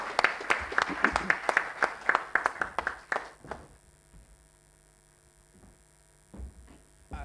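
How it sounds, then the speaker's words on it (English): A short burst of clapping from a small group, crisp and evenly paced for about three seconds, then dying away into quiet room hum. "Give her a round of applause."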